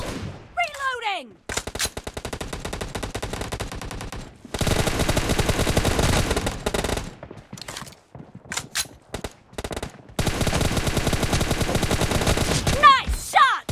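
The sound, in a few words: gunfire in the video game BGMI (Battlegrounds Mobile India)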